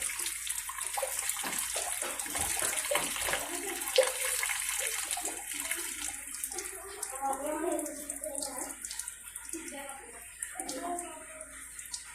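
Water poured into a toilet to flush it after urinating, a steady splashing wash near the microphone lasting throughout, with a voice speaking faintly underneath.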